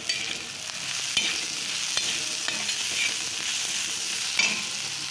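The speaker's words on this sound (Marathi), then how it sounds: "छान तिखट मीठ सगळं भाजून झालेलं आहे।" Chili powder, salt and turmeric roasting in a hot pan for a spicy chutney, giving a steady close, dense sizzle with faint stirring scrapes and no voices.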